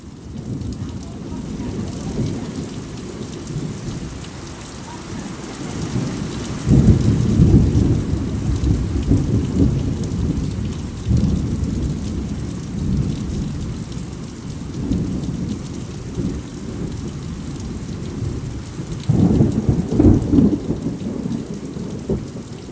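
Heavy night thunderstorm in Gujarat, steady downpour roaring throughout with deep rumbling thunder cracks swelling louder twice, close and powerful, with no talk over it.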